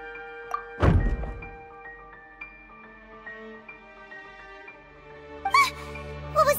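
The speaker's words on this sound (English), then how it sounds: "I seem to have accidentally knocked over a decoration." A decoration knocked over inside the Genshin Impact video game lands with one sharp thunk early on, followed by lingering musical tones and a few small chimes near the end.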